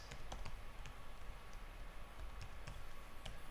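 Quiet, rapid clicking of keys on a computer keyboard, irregular taps in short bursts, faint and close with no voices.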